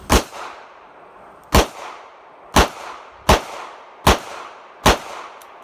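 Six sharp gunshots from a Ruger LCR .22 WMR revolver fired alone outdoors at a fast, slightly uneven pace, each loud crack trailing off into a brief echo.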